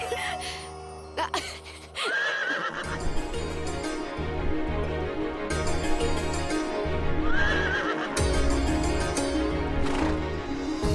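A horse neighs loudly twice over a steady clip-clop of hooves in a fairy-tale palace scene, the whinnies rising above continuous trotting with background music.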